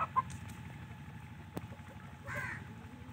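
Chickens on a Punjab village farm cluck in a few brief, faint, scattered calls over low background rumble.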